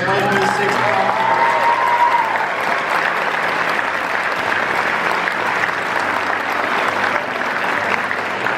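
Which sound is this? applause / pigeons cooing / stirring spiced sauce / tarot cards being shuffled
applause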